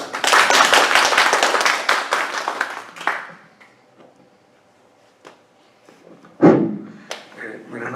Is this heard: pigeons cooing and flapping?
no